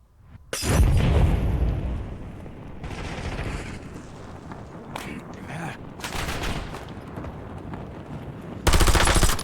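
Automatic gunfire in the video game Call of Duty Warzone, loud bursts of rapid shots recurring across the clip with a heavy closing volley, plus scattered louder single reports.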